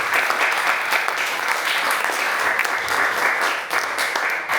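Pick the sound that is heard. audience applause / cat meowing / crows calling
audience applause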